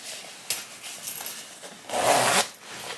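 A long lower-leg zip on Swedish M90 splinter camo trousers, pulled in a few short rasping bursts with a longer, louder sweep near the end, close up and alone.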